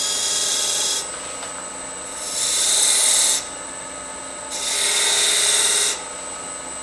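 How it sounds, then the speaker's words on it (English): Wood turning on a lathe at about 1200 RPM, with a hissing, scraping cut that swells and fades in repeated passes over a steady motor hum, with no talking. "I'm turning about 1200 RPM, not extremely fast"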